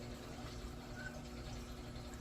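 Fogger humidifier running steadily beside moss-potted indoor plants, giving a continuous low watery hiss and bubbling hum with a faint tonal drone, even and unbroken throughout.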